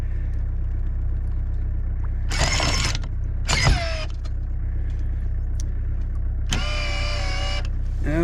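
An anchor winch hauls up a boat's anchor in a harbour cove off Swans Island: three separate bursts of straining mechanical motor whine, the last one longest, rise over a steady low engine rumble.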